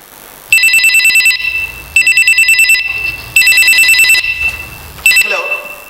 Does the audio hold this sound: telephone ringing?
yes